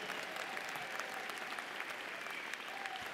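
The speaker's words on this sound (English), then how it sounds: "Please join me in applauding those graduates, their parents, spouses," A large crowd at a medical school commencement ceremony applauds the graduating class, a steady, dense wash of clapping heard from some distance, with a few scattered cheers.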